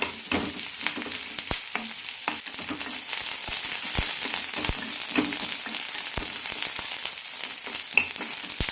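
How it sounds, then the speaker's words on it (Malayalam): Chopped onion and green chillies sauté in a hot pan for carrot chutney, giving a steady close sizzle throughout, broken by the scrape and tap of a spatula stirring. No one speaks. "പിന്നെ വഴറ്റാം സവാള കണ്ണാടിപ്പരുവായാലും മതി ചോക്കേണ്ട ആവശ്യമൊന്നുമില്ല"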